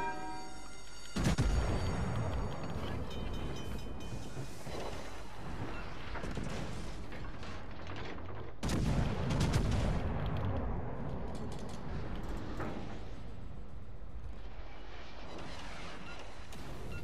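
Warship cannons in World of Warships let off heavy booming salvos, with two loud bursts several seconds apart over a continuous low rumble of ongoing gunfire and explosions, and no talk over it.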